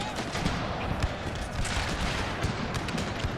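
Crackling musket volleys in a Thirty Years' War Total War battle, many overlapping shots popping irregularly at a distance over a low battlefield rumble.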